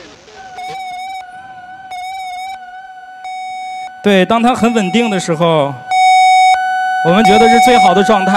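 A modular synthesizer mimics emergency room equipment with clean, steady electronic tones and beeps that pulse and shift in pitch, broken up by bursts of a person talking.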